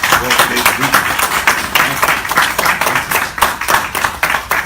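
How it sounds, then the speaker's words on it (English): A crowd at a Royal Canadian Legion meeting hall claps in a steady, dense round of applause, loud and sustained throughout. "A big round of applause."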